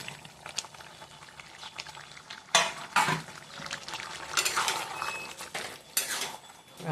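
Shrimp go into a pan of simmering green jackfruit curry, with sharp clinks of a metal utensil against the pan, a wet splash and bubbling liquid in irregular bursts.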